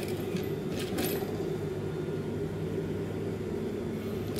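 A sewing machine stitching a fabric pouch, a steady mechanical hum and whir running continuously at close range with no pauses and no talk.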